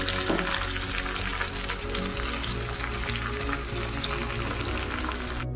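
Coriander dropped into hot oil for a tadka tempering while making dhokla, giving a continuous close, crackling sizzle that holds steady and fairly loud throughout, with no voices.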